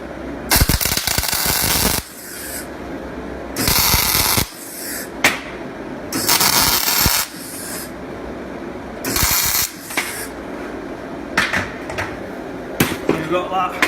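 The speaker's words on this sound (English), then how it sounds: "Just going to weld that on the back of" Arc welding a steel daffodil piece onto the back of a 20mm square bar in a workshop, loud crackling bursts of a second or two repeating with short gaps, with a voice speaking between them.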